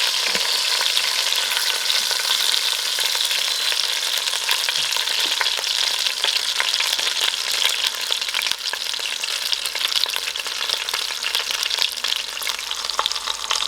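A chunk of lamb for birria sizzles and crackles steadily in a hot pot, a dense continuous frying hiss close by with scattered pops and no voices.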